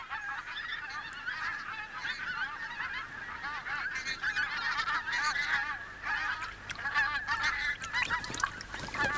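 Large flock of geese, thousands strong, honking at an internationally recognised wetland in Britain, a dense continuous chorus of overlapping calls at moderate distance with no talking.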